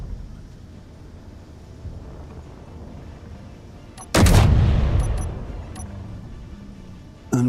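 A large autocannon arm mounted on a build in the Space Engineers video game fires one loud, heavy burst of gunfire that rings out and then decays, set over a low steady hum.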